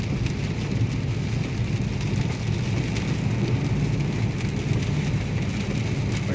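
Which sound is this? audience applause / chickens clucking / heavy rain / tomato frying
heavy rain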